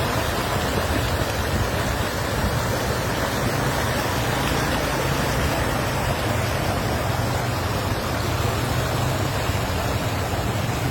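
Flood water pouring over a highway in Karachi: a dense, steady roar of rushing water, loud and unbroken from start to finish, with no voices.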